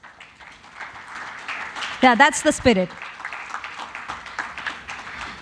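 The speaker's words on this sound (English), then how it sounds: "We can do better with the applause." Audience at a chemical industry conference applauds in a continuous spread of clapping beneath a voice that speaks over it, with a brief louder burst midway.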